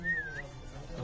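A single short whistle from a person, a rising then gliding tone lasting under half a second, fairly quiet and heard alone.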